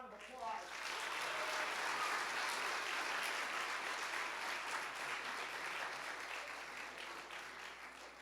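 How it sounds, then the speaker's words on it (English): A church audience bursts into sustained applause at a Christmas live comedy night, a dense wash of clapping that holds steady for several seconds before easing slightly, with faint voices mixed in. "Give that person a big round of applause."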